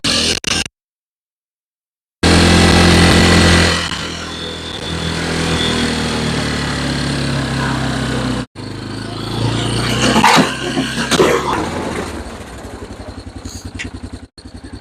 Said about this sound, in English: So we're going to fire it up, we're going to get suited up, and we're going to do some plowing